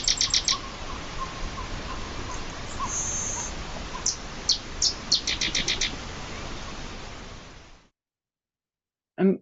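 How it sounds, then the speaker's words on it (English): Recorded marsh bird calls: repeated short chirps and whistled notes in bursts over a steady hiss of background noise, ending in silence with one brief final sound. "we're gonna have a little couple of birds pop up as they're calling"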